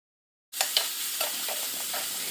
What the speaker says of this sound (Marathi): आता यामध्ये कांदा घालून घेऊ